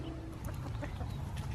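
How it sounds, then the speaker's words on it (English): Chickens in a garden cluck softly and intermittently over a steady low background rumble, close but quiet. "And the chickens are in their new spot,"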